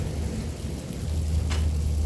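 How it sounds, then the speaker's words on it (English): Steady rain pours outdoors during a weighted pull-up, push-up and squat workout, a dense continuous hiss with a low rumble underneath, close and even throughout with no talking. "It's raining."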